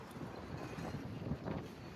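Gusty wind buffets the microphone outdoors at a campsite in Benidorm, Spain, a steady rumbling roar with soft fluctuations and no voices.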